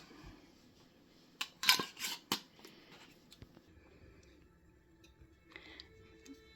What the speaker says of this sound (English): they're pinging and popping around like crazy here. Sealing already